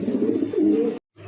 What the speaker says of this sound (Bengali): এটা হচ্ছে হোয়াইট কালার সিরাজি কবুতর